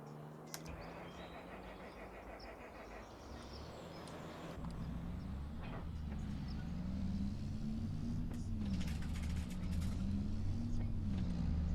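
A service truck drives in Farming Simulator 25, its engine a low steady rumble that rises slightly and changes pitch with speed over a faint outdoor ambience, with no talk.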